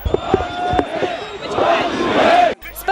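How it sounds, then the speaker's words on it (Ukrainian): A crowd of protesters shouts and surges toward a regional government building during a rally, loud overlapping voices and cries close by, cut off abruptly near the end. "За півгодини натовп організовано рушає на резиденцію Тулуба."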